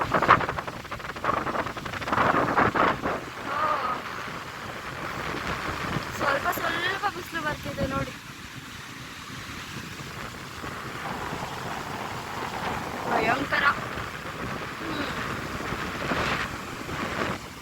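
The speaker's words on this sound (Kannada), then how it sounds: "ಅಪ್ಪ ನೋಡಿ ಎಷ್ಟು ವಿಂಡ್ ಇದೆ ಅಂತ" Strong wind at Marina beach in Chennai buffets the microphone in loud, uneven gusts, with waves nearby and people talking and exclaiming throughout.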